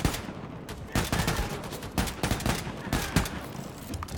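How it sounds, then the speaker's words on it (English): Rapid bursts of gunfire from the shooter game Wolfenstein II: The New Colossus, loud repeated volleys and single shots cracking at irregular intervals throughout, with a dense noisy backdrop of combat. "Who's shooting me?"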